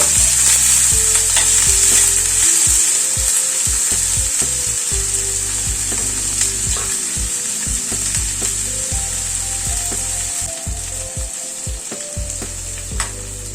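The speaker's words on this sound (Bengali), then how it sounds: "একটু লাল করে ভেজে নেব পেঁয়াজটা হাই ফ্লেমে আমি ভাজছি" Onions fry over a high gas flame in a wok, with a bright constant sizzle and rapid, rhythmic clacks of a spatula stirring against the pan, close and loud, with no voices.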